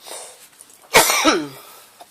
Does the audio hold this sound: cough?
yes